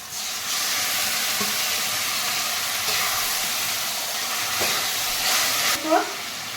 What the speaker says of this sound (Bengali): এইটা হালকা করে একদম আলতোভাবে নেড়ে মিডিয়াম আঁচে